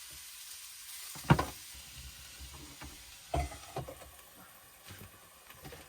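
Butter frying in a pan inside a campervan, a steady low sizzle with a few sharper pops and clatters of a utensil stirring, fairly quiet with no talking.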